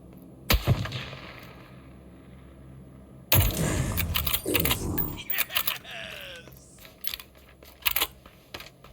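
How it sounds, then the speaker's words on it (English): A grenade goes off in a shooter video game: a sharp blast, then a long stretch of crackling debris, scattered clatter and a few more sharp hits, loud and close against quiet moments. "Good time for a nade."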